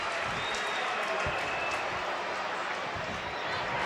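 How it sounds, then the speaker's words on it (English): Large stadium crowd at a 2000 college football game between Arkansas and Auburn, a steady broadband roar of cheering filling the whole stretch with scattered thumps, continuous and loud without clear breaks. "he's got this crowd just fired up now"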